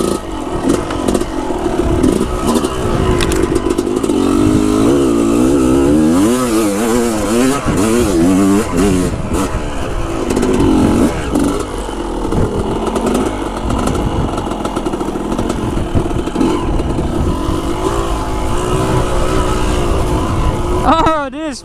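An old-school motorcycle engine revs loudly and close, rising and falling in pitch repeatedly over a continuous outdoor roar, with people talking beneath it.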